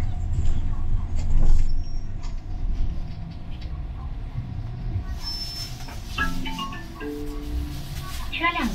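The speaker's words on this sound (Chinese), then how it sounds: "车辆起步，请拉好扶手。" A Shanghai route 966 city bus pulling away, with a low engine rumble under cabin noise and a recorded onboard announcement, followed by squeaks and rattles as it moves off.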